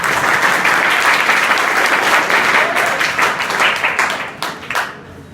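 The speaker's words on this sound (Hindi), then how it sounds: "तो सबके लिए ताली का साथ।" Students at an inter college education program clap together, a dense close round of applause that holds strong, then thins into scattered claps and fades out, with a voice faintly underneath.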